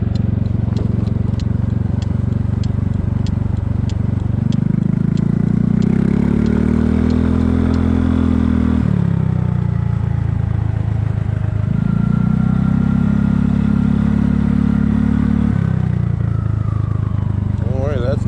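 Exhaust note from the muffler of a Kymco People 250 scooter on a cold 40°F night, a steady low engine drone that swells in two long revs, with speech over it.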